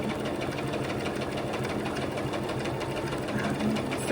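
A sewing machine runs a straight stitch along a tulle seam, its fast even needle clatter loud and close, continuous without a break.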